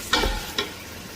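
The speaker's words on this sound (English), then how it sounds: "sauteing until it browns. So our meat is browning," Beef browns in a pan on the way to a beef stew, giving a soft sizzle with two short, close stirring clatters within a moment.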